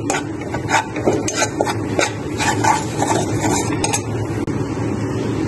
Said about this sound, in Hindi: मैं इसमें डालूंगी टू टेबल स्पून मैदा और हम इसको हल्का सा भून लेंगे हल्की आंच पे